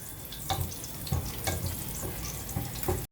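Cumin seeds crackle and sizzle in hot oil with garlic in a home kitchen pan, a steady frying hiss broken by brighter bursts of spitting roughly every half second, close and moderately loud with no talk.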